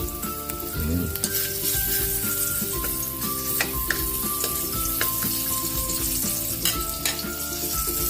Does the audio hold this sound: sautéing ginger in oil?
yes